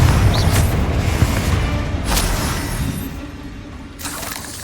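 A Confringo blasting spell detonates in Hogwarts Legacy with a loud, broad boom that decays into rumbling debris, followed by a couple of sharp crackling bursts.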